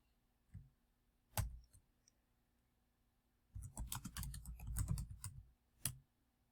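Typing on a computer keyboard in a quiet room, a few isolated key taps followed by a dense burst of quick clicking keystrokes and one final tap.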